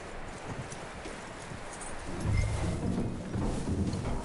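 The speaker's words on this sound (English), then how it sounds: "That looks like a decent horse." Horse hooves clip-clop at a walk in Red Dead Redemption 2, a steady, fairly close patter of soft thuds that grows a little louder and heavier in the second half over outdoor ambience.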